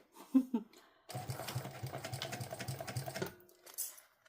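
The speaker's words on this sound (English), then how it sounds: "And this is an industrial machine" Industrial sewing machine stitching leather, a close rapid mechanical chatter running for about two seconds before stopping, preceded by a few soft clicks and followed by a light knock.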